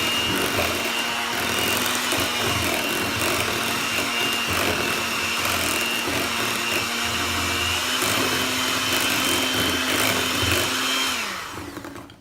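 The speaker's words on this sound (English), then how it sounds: "The mixer's getting in the way." An electric hand mixer whirs steadily while beating brownie batter for raspberry truffle brownies in a bowl, a constant droning motor with rough grinding texture that winds down and stops at the end.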